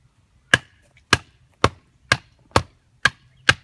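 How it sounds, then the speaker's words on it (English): Seven sharp, evenly spaced knocks of a Spyderco Bushcraft knife being batoned into wood, each a crisp, close thwack with brief pauses between. "We're going to go ahead and get straight in to batoning."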